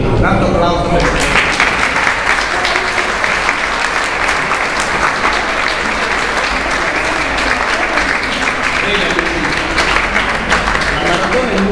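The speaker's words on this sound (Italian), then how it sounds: "grande applauso per me." A concert audience at a choir and ensemble music evening breaks into applause. After a short quiet opening the clapping comes in and stays loud and dense to the end, a continuous wash of many hands.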